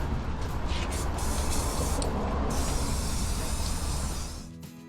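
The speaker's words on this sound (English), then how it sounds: "I'm gonna go in with this flat white spray paint, and I'm just gonna spray" A can of flat white spray paint hisses in one long continuous burst, close and steady, then tapers off near the end.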